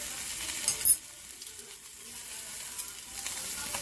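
Honey-glazed salmon fillet sizzles and spits steadily in a hot pan, a close, continuous frying hiss with a brief louder crackle near the start, no voices.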